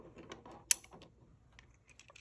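Pieces of a magnetic molecular model kit click together while a glucose molecule is built and hydrogen atoms are attached, with one sharp snap followed by scattered soft, close clicks and taps in a quiet room.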